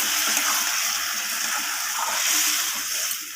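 Water gushes in a steady, continuous pour into a pan of sautéed vegetables, with bitter gourd and prawns, cooking down for a chorchori. The stream is loud and close throughout.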